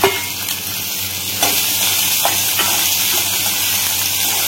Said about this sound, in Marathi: जे आपण मोठ्या साईजचा कांदा कट करून घेतला होता ते याच्यामध्ये आपल्याला घालून घ्यायचं आहे।